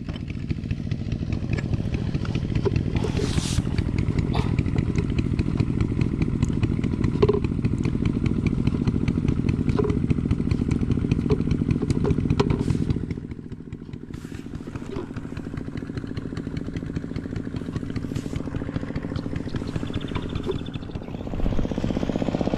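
A small engine runs steadily with a buzzing, rattling drone for the whole stretch, dipping briefly in pitch partway through, with occasional voices underneath.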